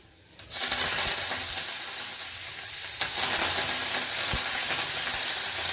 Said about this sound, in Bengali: হিং ফোড়ন দিয়ে তারপরে আমি কয়েকটা কারিয়া পাতা দিয়ে দেবো।